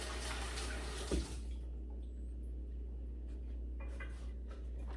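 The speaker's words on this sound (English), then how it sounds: "Wash my hands." Water runs steadily from a kitchen tap as hands are washed beneath it, a continuous close rushing with a brief splash early on and slight shifts in the flow.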